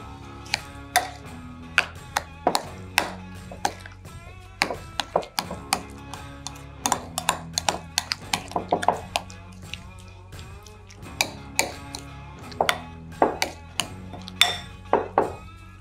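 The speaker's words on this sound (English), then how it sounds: "I'll take a spoon and just mix this together good." A spoon scrapes and clinks against a bowl while stirring and pressing a cheese and panko breadcrumb stuffing mixture for smoked shrimp, giving a run of close, sharp taps and scrapes in irregular bursts.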